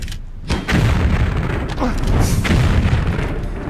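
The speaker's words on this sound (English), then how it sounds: "Grenade launcher is missing him." Heavy booming blasts from a grenade launcher in Tomb Raider 3, a sudden deep explosion followed by rumbling impacts and a second hit, loud and close, with faint voices underneath.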